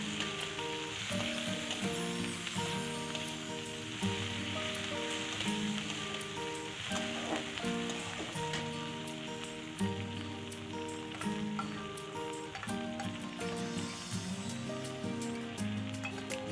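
Chopped tomato hits fried onions in a pressure cooker for a Bengali mutton curry, setting off a steady, hissing sizzle that runs throughout beneath music.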